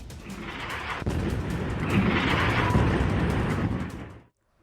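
Blast from a drone attack on a US military base in eastern Saudi Arabia, a loud sustained roar of explosion and rumbling debris lasting about four seconds before cutting to silence.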